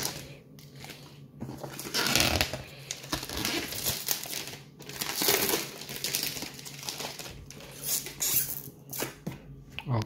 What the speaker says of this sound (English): Of course we wanna cut the package.